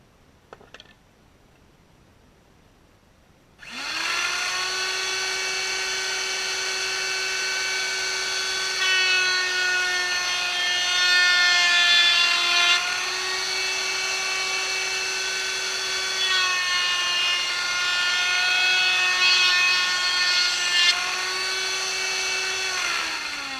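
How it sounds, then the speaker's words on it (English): A router shapes two edges of a wooden toboggan bumper board, giving a loud, high-pitched, steady whine. It spins up after a few seconds of near silence and then cuts continuously for about twenty seconds with slight dips in pitch as it bites into the wood. "now we're going to router our bumper board"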